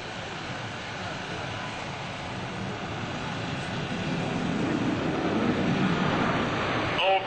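Four US Navy Blue Angels jets flying a tight Diamond roll at an NAS Oceana airshow produce a steady, broad roar that builds in loudness as they pass, with an announcer talking over it.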